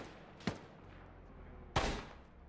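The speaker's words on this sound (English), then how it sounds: "Mike's taking fire from the west" Two distinct gunshots echo in the ArmA military game, each a sharp crack with a rolling tail, spaced about a second apart over quiet ambient background.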